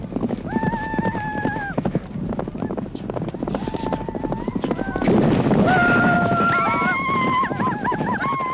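Horses gallop in a Mongolian horse race ridden by children, rapid clip-clop hoofbeats under wind noise, with tonal calls or singing rising over the pounding and growing louder toward the end.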